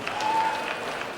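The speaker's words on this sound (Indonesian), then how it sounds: "sekali lagi berikan tepuk tangan meriah untuk Nisa SE" Applause from an audience at a university graduation ceremony, a brief steady patter of clapping at moderate level with a faint voice underneath.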